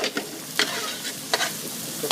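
Prosciutto and red chili pepper flakes fry in a pan with a steady hiss, broken by several short scraping stirs spaced through the sizzle at close range.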